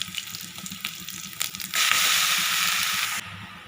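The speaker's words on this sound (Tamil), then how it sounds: "இப்போது துருவி வச்ச பீட்ரூட்டை போட்டுடலாம்." Grated beetroot tipped into hot oil with green chilli, curry leaves and garlic, first a few crackling pops and scrapes, then a loud, steady hiss of frying that cuts off abruptly near the end, with no voices.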